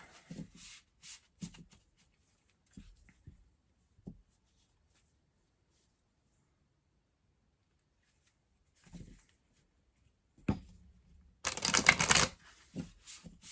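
Large tarot deck being shuffled, with a few soft scattered card taps and riffles early on, a long quiet stretch, then a dense, loud burst of rapid shuffling near the end.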